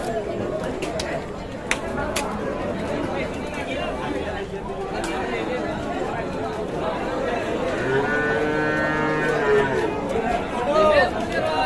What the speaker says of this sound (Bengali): এখানে আমরা একটু গরু দেখছি